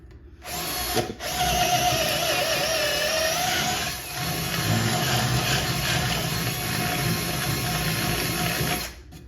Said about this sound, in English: let me just widen, try to make a 1/4 inch hole, but a little bit wider